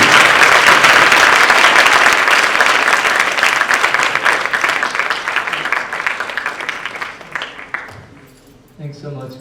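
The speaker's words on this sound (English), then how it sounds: "Can we just have a huge another round of applause?" Loud, sustained applause from an audience at an evening talk on human trafficking, dense clapping that gradually thins and fades out toward the end, with a few voices emerging as it dies away.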